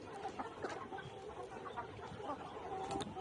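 Vaccinated layer pullet hens on a poultry farm cluck continuously in a low, busy chorus of overlapping calls, faint and steady throughout.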